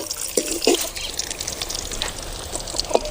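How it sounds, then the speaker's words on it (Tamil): Water trickles and pours over tamarind set to soak for a drumstick and brinjal gravy, a few short splashy bursts with light dribbling between them, fairly close and alone. "தண்ணி ஊற்றி ஊற வச்சுக்கலாம்."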